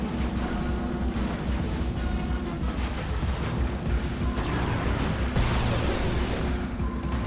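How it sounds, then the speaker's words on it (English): Heavy grinding, scraping rumble of Axel's special attack in Twisted Metal: Lost, like a massive metal box dragged over concrete, loud and continuous for the whole stretch with no talk. "It sounds maybe like a really heavy metal box being moved across a concrete floor."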